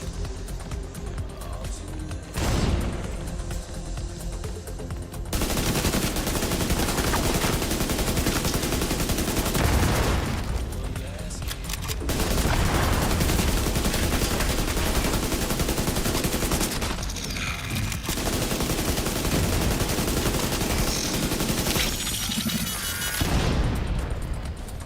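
SMG gunfire in the video game The Division 2, loud sustained automatic bursts that run for long stretches, broken by short pauses, with other shots and booms in the mix.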